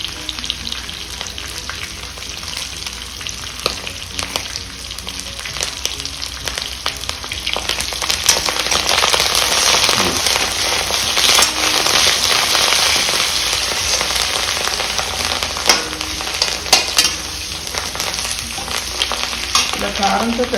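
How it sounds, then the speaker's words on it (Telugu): Ivy gourd pieces fry in hot oil in a pan with curry leaves, giving a loud, steady sizzle with crackling pops and occasional stirring scrapes, continuous and close throughout. "చూసారా చక్కగా వేగిపోయినాయి దొండకాయలు. ఇందులో కొంచెం కరివేపాకు,"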